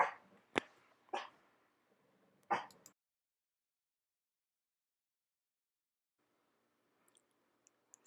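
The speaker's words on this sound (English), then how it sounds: "the doggies were barking and I had to stop" A dog gives four sharp, close barks in quick succession at the start, then falls silent, leaving near silence with only a few faint clicks at the end.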